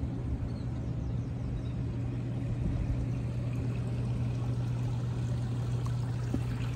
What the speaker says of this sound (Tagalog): Talagang ang lakas ng tubig.